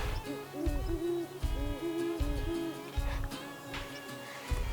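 A great horned owl hoots outdoors on a freezing, frosty morning in river-bottom woods, giving repeated deep, soft hoots in short rhythmic groups, moderately close and clear.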